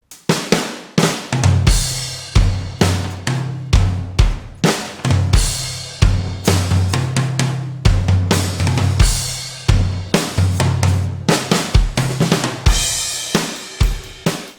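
A drum kit reworked with the Trigger drum replacement plugin pounds out a dense, punchy groove with booming low kicks, bright crashing cymbals and steady snare hits, loud and continuous with no voices.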